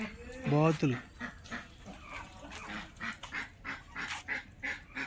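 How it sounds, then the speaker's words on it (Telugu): Farm ducks kept alongside guinea fowl give one loud, nasal quack near the start, then fainter calls scattered under someone talking. "బాతులు"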